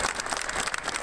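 An audience at a Mexican state event bursts into dense applause for a revolutionary-era governor, a steady wash of many clapping hands, loud and close, filling the whole brief moment.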